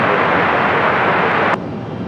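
An Alaska Airlines airliner arriving from San Diego and landing on runway 23 right at Raleigh-Durham International Airport, a loud, steady roar of jet engines that drops off sharply near the end.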